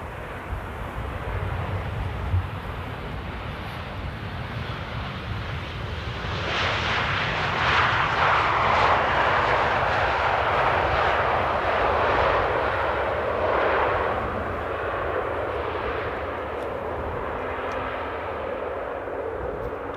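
Airliner landing at Amsterdam Airport, a broad jet engine roar that swells to a louder rushing peak midway and then eases, heard from a distance.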